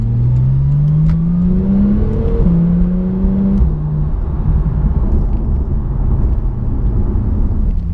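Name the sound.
2016 Porsche 911 Turbo S accelerating at full throttle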